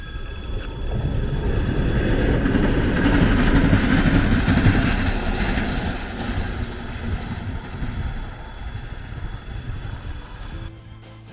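A heavy train rumbles through a station at speed, a loud sustained roar that peaks midway and slowly fades, with no voices.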